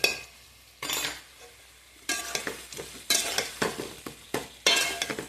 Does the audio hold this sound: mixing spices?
yes